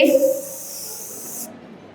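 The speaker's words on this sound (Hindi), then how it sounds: "बाद हार्ड स्प्रे" Hard-hold hairspray hisses in one short, close burst lasting about a second and a half during a live on-stage hairstyling demo, then cuts off abruptly.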